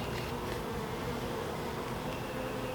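Honeybees in a new hive buzz steadily during an inspection, a dense, continuous drone filling the whole stretch at an even level, close by, with no talking over it.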